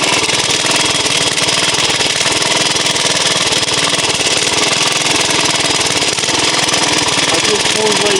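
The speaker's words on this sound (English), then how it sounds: "Alright, so we're going to stop the motor now." A vintage JAP engine in Australia runs loudly and steadily, with a dense, even mechanical chatter that never stops; a voice may be faintly present under the noise.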